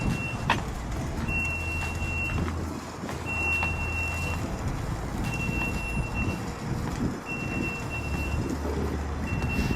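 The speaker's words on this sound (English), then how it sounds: "There is a beep there." Reversing beeps ring out in regular pulses, four or five spaced bursts over steady rumbling vehicle and traffic noise outdoors near a casino by an airport, moderately distant and with no talking.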